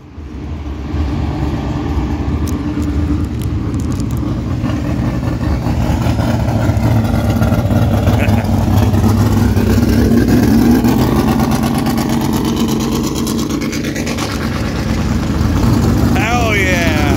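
Drag racing cars at Lebanon Valley drag strip, engines rumbling and revving loudly as they launch and pull away down the track, with a crowd and people talking close by throughout.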